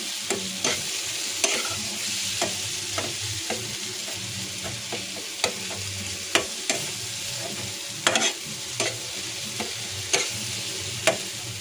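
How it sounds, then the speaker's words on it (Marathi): Chili thecha sizzles as it is sautéed in a pan, with a continuous frying hiss punctuated by regular sharp spoon clacks against the pan throughout. "चांगलं परतून घ्यायचं आता"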